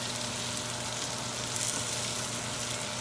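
A thick salmon fillet fries in a pan, giving a steady, close, bright sizzle with soft crackling throughout.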